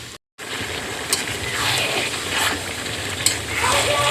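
Potatoes fry in a pan with onions, a steady close sizzle with occasional stirring scrapes and a brief silent gap near the start.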